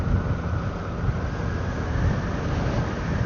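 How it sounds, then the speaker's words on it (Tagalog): Strong wind roars and buffets steadily at a mountain viewdeck, a dense rushing noise with no voices, close and loud throughout. "hindi naman tayo kabilisan pero malakas ang hangin"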